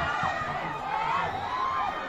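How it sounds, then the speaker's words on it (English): Cheering and whooping from players of both teams at a school sports meet in Phek Division, a continuous lively crowd roar with high shouted voices rising and falling throughout. "All the players from both the teams are cheering very hard for the team."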